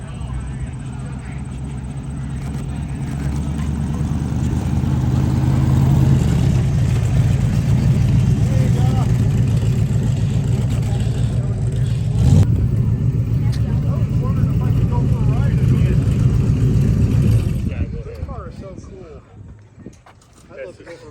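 A Nissan GT-R nicknamed Godzilla being driven, a loud steady engine drone with rises in revs for about seventeen seconds before fading out, with people talking over it.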